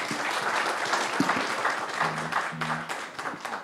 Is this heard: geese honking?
no